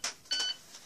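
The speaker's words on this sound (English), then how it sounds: "So that was my alarm." An alarm gives two short electronic beeps, close and fairly loud, the second one longer, followed by quiet.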